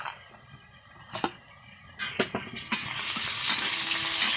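Potatoes fry in a pan for a village-style bean seed chorchori, with scattered scraping stirs at first, then a loud, steady sizzle building up close.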